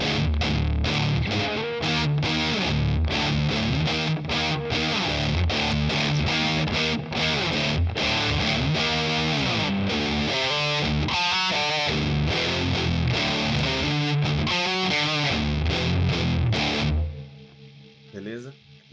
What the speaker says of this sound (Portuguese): Então agora, ó, eu tenho um som de guitarra.